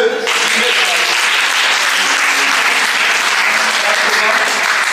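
Dense, sustained applause from a large congregation at a Catholic celebration at the Lourdes sanctuary, steady and loud throughout with no break.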